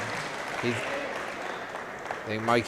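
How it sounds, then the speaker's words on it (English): Spectators applaud the players after a smallball quarterfinal at a world championship, giving steady, even applause with a voice speaking over it. "Let's give a round of applause to both players."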